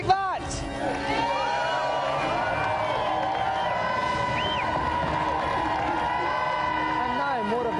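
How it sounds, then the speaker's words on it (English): A crowd cheers and whoops loudly after a sharp opening burst, a continuous roar of excited voices and shouting that carries on without letting up. "So let's have another round of applause"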